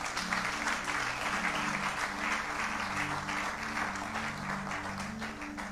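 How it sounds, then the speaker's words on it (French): A church congregation claps and cheers together, a dense, steady wash of applause that holds loud and even throughout, with voices mingling beneath it and no single speaker standing out. "On peut acclamer pour le Seigneur."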